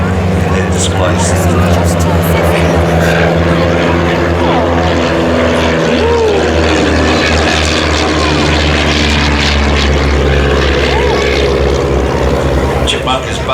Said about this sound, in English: Chipmunk is basically a tandem two-seat primary trainer or ab initio and a sport aircraft as well.